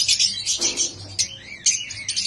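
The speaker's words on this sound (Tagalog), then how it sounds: "So may mga collection po tayo ng iba't ibang klase ng ibon." Several small birds chirp and tweet in quick, overlapping bursts, with high bright calls close by and a soft low hum underneath.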